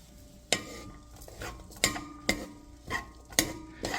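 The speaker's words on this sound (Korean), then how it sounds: "무나물에 들어갈 깨소금을 이렇게 갈아줍니다" Sesame salt being ground by hand for a Korean radish side dish, a series of sharp scraping crunches at uneven intervals, close and fairly quiet with no talk.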